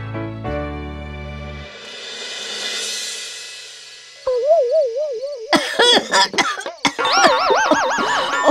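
A cartoon character coughs from mosquito coil smoke, with harsh, repeated, close coughs and wobbling, warbling cartoon sound effects toward the end, following a quieter tonal passage.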